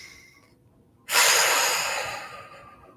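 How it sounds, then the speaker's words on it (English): A single deep breath in, starting suddenly after a brief quiet pause, loud and close, then slowly fading as the inhale draws out over about two seconds. "here's the breath wanting to come up"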